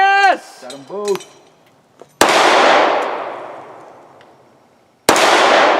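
An HK P30 pistol fitted with a compensator, styled after John Wick, fires two sharp, loud shots a few seconds apart, each followed by a long decaying echo, after brief voices at the start.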